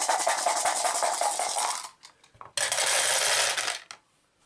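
A handful of dice for an Arkham Horror board game rattle and clatter across a table in two bursts, the second starting after a short pause, close and fairly loud.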